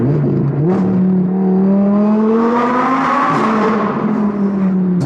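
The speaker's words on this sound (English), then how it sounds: "you're just not going to beat a V10 that sounds like this" An Audi R8 supercar's V10 engine revs loudly and continuously, its pitch climbing in a smooth rising howl before settling, close and alone with no talk.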